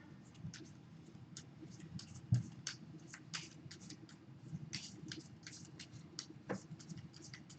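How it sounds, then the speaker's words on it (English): Dominion playing cards of a discard pile being shuffled on a table, a quiet run of soft papery riffles and taps with one sharper knock, close and faint. "Then I have to shuffle my discard"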